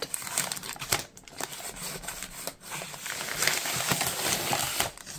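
Scissors snip open crinkly plastic packaging close by, with irregular cuts, crumpling and rustling handling noise, fairly quiet and without talk.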